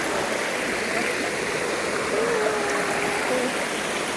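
Steady broadband rush of a waterfall and stream in a scenic nature spot, continuous and fairly close with no pauses, a faint tonal whine briefly audible over it.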